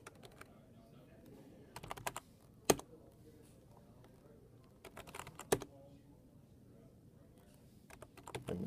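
Quiet typing on a computer keyboard while logging in as root on a Raspberry Pi, with a few separate bursts of key clicks around sparse, faint background sound.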